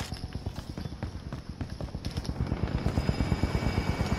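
A helicopter in the video game Call of Duty: Infinite Warfare, its rotor thumping in a fast steady pulse that grows louder and closer over the clip.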